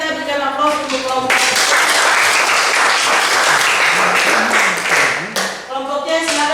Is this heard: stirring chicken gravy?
no